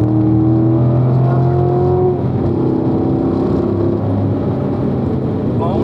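Corvette engine on a driving-school racetrack, loud and close, holding steady tones that step and shift as the throttle is applied, a continuous powerful drone with whirring harmonics throughout.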